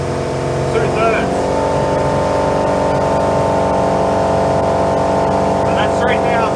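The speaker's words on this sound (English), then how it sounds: "Feels like it's taking a lot more throttle to get it there." A 34ft Hartley timber boat's engine drones steadily near full throttle, a loud, continuous harmonic roar with no letup, while a voice briefly cuts in over it.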